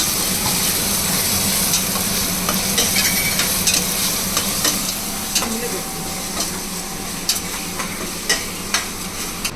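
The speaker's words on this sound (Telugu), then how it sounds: "ఈ అల్లం వెల్లిపాయ పేస్ట్ కూడా పచ్చి వాసన పోయే వరకు ఫ్రై చేసుకోవాలి" Ginger garlic paste sizzles loudly in hot oil for a mutton curry, with a steady frying hiss and repeated sharp scrapes and taps of a spoon stirring in the pan, growing more frequent toward the end.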